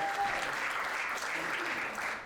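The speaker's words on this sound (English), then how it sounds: "Clap it up for Raphael." A live comedy game show audience applauding a contestant, dense sustained clapping that fills the room, with a host's voice partly under it.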